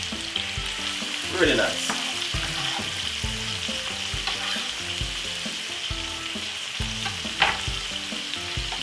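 Vegetables for tuna pasta frying in a pan, with a constant sizzle and repeated scraping, clattering strokes as they are stirred close up, and a few brief spoken words partway through.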